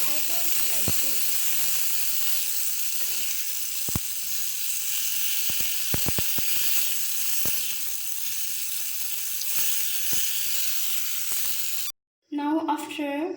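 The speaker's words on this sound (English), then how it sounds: "After the oil gets hot, you need to fry the tomatoes like this." Tomatoes sizzle and hiss steadily in hot oil, with a few sharp clicks and clatters of stirring, before the frying noise cuts out near the end and a short burst of voices follows.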